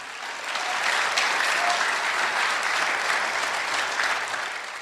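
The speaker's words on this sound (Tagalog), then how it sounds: "Lakasan niyo yung palakpak." Steady applause from a church audience at a Tagalog preaching service, swelling in after a moment and holding at an even level, with a few faint tones through the clapping.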